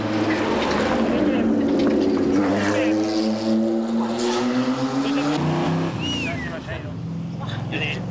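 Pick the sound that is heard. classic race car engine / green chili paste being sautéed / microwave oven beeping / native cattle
classic race car engine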